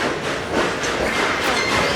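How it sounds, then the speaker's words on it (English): Dollywood train running on rails, a loud, close, continuous rumble and rolling noise of the moving train, steady throughout with no talking. "I told you this train was fast."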